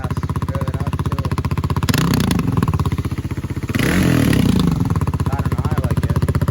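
Close, loud idle of a 2020 Kawasaki KLX 300R dirt bike engine, broken by two quick throttle blips that rise and fall around two and four seconds, with steady putting between.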